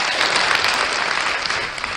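A French audience bursts into loud, continuous applause for a singing performer, a thick wash of many hands clapping at once that holds steady throughout.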